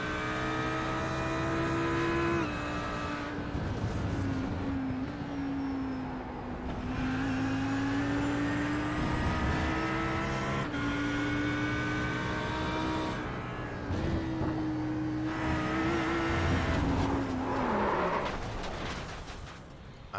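Several GT3 race cars on track in the iRacing sim, heard from on board: loud engine revving through upshifts and downshifts with rising and falling pitch, steady and continuous with no talk.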